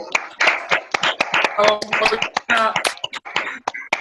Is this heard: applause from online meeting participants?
yes